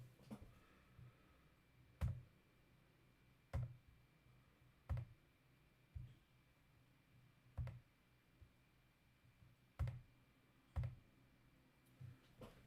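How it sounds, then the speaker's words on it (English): Keys clicking on a computer keyboard while stats are entered, about eight sharp, loud keystrokes spaced a second or two apart over a quiet room hum, with no talking. "I was typing, just putting in some stats on the board there."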